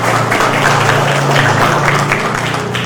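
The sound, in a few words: applause for everyone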